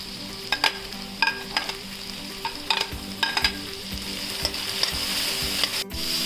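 Tomato, carrot and beans fry and are stirred for vegetable upma, giving a constant sizzle broken by repeated knocks and scrapes of a spoon against the pan, all close and without voices.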